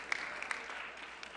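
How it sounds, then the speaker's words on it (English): An audience applauds at a White House Correspondents' Association dinner, a brief, faint patter of scattered clapping from a crowd. "don't hold the applause in"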